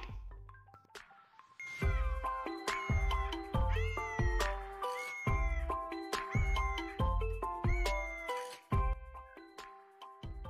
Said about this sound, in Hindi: बिल्ली को इंग्लिश में कहते हैं कैट।